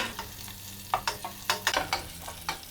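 Carrots and raisins sautéing slowly in oil over a low flame for a bukhari rice dish, with a steady soft sizzle broken by several sharp scraping stirs of a spoon in the pan.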